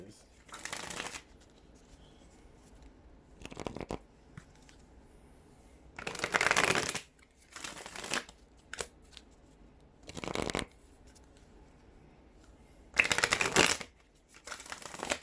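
Tarot cards are shuffled in several brisk riffling bursts separated by pauses, close up, with quiet background between shuffles.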